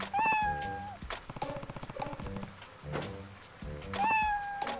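A cat from the game Like a Dragon: Ishin! meows during a bath, two drawn-out meows bracketing a stretch of splashing and scrubbing, close and clear with no talking.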